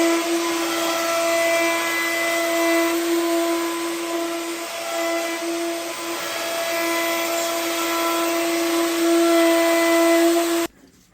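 A 2.5 horsepower router flattens a wood slab on a sled jig, a loud steady high-pitched whine holding constant for about ten seconds before cutting off abruptly at the end.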